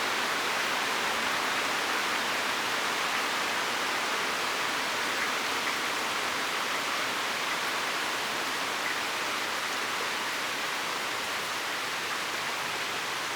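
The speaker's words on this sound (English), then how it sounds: "The rain has calmed down" Thunderstorm rain in southeastern Pennsylvania pours down as an unbroken, even hiss, loud and constant throughout with no pauses or distinct drops standing out.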